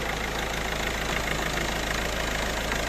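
A Peugeot 308 1.6 HDI diesel engine idles just after an oil change, a loud, steady, close rumble with a fine rapid diesel clatter and no voices.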